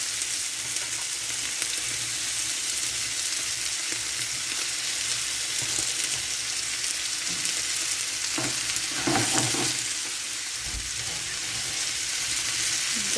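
Broccoli, peppers and pork stir-frying in a home kitchen pan, with a continuous loud sizzle and occasional scraping stirs, a running extractor fan beneath it.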